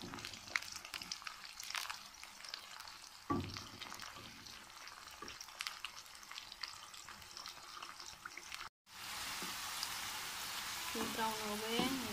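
Bitter gourd and green chilies frying in hot oil in a pan, a steady crackling sizzle with occasional stirring knocks, a brief cut near the end, then a brighter, louder hiss of frying.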